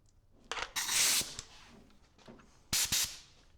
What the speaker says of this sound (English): Basically what a vacuum bleeder does is it pulls a suction on the brake system